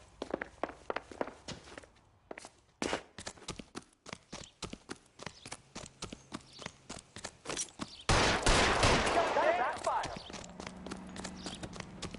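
Repeated sharp gunshots ring out in the video game L.A. Noire, coming in quick irregular bursts and building to a loud, roaring blast near the end, with voices and game sounds underneath.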